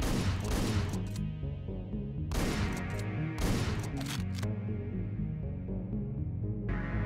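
Shotgun blasts in a video game come as heavy, booming shots in irregular clusters, loud and close, separated by brief gaps with an underlying low game soundtrack.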